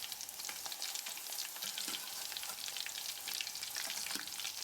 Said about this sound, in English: Fry the meatballs for about 3 to 4 minutes until they turn into a golden brown color